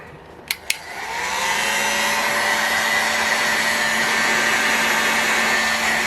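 A hot-air heat gun starts up with two sharp clicks, then blows with a steady whine and rushing air while warming the aluminum crankcase of an Enya 45 model engine for bearing installation.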